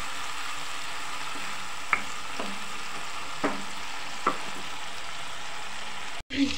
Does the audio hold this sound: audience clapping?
no